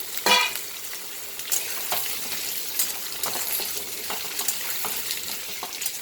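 Potato pieces and onions fry in oil in a pan, a close, steady crackling sizzle broken by a few stirring clinks and scrapes, with no talking.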